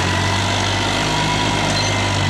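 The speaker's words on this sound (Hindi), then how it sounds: "ट्रैक्टर खींच रहा है।" Fiat tractor engine pulling a loaded trolley, a steady throbbing diesel drone with a low rhythmic pulse, loud and close throughout without speech.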